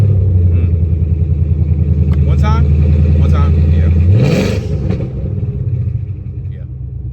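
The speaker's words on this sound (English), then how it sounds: "I'm gonna give you this exhaust clip right now" A deep, rumbling Whipple-supercharged S650 Ford Mustang exhaust idles loudly, then revs up sharply and settles back; someone speaks briefly over the engine.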